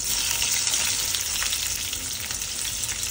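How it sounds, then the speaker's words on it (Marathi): Onion fries in two spoons of oil for a Malvani shark fish curry, giving a dense, continuous, close-up sizzle. A faint stir is heard now and then. "कांदा जरा परतून घेते लाल होईपर्यंत"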